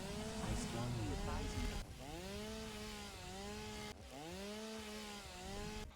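A chainsaw in the video game Satisfactory cuts down trees, its engine droning loudly and continuously with rising and falling revving pitch, briefly dipping twice as trees come down.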